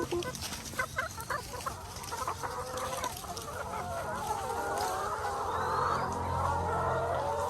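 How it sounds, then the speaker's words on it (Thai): Laying hens at an egg farm: many birds clucking and cackling close by, with short calls early that build into a loud, continuous overlapping chorus. "เดี๋ยวเราไปดูไก่ที่กำลังไข่กันอยู่ดีกว่า"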